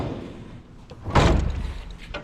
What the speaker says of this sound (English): There's no lever you have to pull or anything like that to open the drawers.